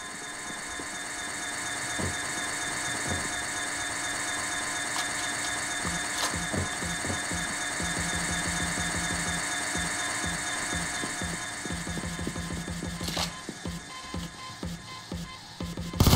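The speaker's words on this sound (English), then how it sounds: "Amazing how I can actually run a drill without fucking nothing on it" A heist drill grinds steadily inside the video game PayDay 2, a continuous mechanical whir layered with scattered game clatter and thuds, holding a constant level throughout with no talk.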